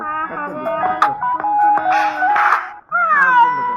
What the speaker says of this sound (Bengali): এত বিড়ালের আওয়াজ।